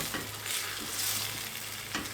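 Curry spices and vinegar being stirred into a pickled sauce, a continuous soft scraping swish with a faint low hum underneath and a few sharper utensil taps, close and steady.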